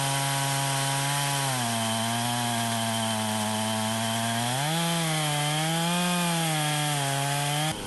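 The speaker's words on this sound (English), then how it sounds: "For this next cut, I can leave the saw set to 3 inches because I want to make another 3-inch cut" Close and loud, a chainsaw on an Alaskan mill rips a 3-inch slab from a log, its engine droning steadily and rising in pitch midway through the cut before cutting off at the end.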